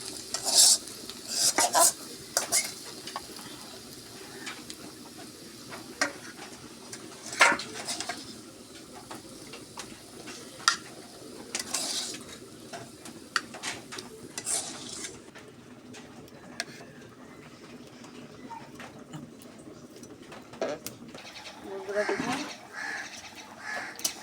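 Eggplant and taro being stir-fried in a pan, for a tangra fish curry, produce repeated scraping and clinking strokes of a spatula against metal over a faint sizzle, with someone speaking at times and birds calling outside.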